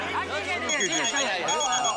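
A telephone rings with a steady high electronic tone under busy overlapping chatter and talk nearby.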